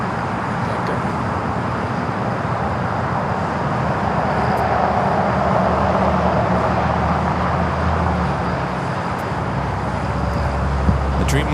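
A Boeing 787 Dreamliner airliner taxis at LAX, a loud, steady broadband jet roar and whine that holds constant throughout, with faint traffic-like rumble beneath.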